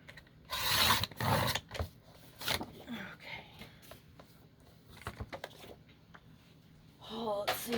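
A paper trimmer slices paper at the 2.5-inch mark, giving a few short scraping cuts up close, with rustling and handling noises and brief talk in between.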